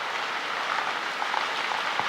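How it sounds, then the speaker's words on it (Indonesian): Heavy rain pours down in Kediri, a steady, dense hiss of drops drumming on surfaces with no gaps, moderately loud and continuous, with no voices over it. "Tuh hujan deras, sangat deras sekali."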